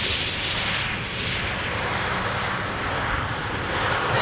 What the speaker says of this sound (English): Relocation flight from Brussels to Amsterdam, KLM A330-300 going to runway 22.